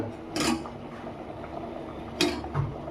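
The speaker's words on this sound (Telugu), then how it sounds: "మూత పెట్టేస్తున్నాను." A lid set onto a pot of simmering Andhra-style sambar, two short metallic clanks about two seconds apart, close and fairly clear, with a soft lower knock after the second.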